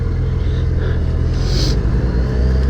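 A Honda Goldwing motorcycle engine rumbles steadily at close range as the rider sets off, a low, even drone with no voices over it.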